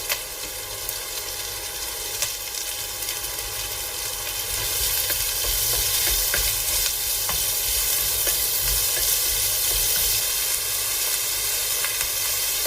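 Chopped onion, ginger and green chili fry with garlic in a hot pan, giving a steady, loud, bright sizzle that grows slightly stronger midway, with occasional faint stirring scrapes.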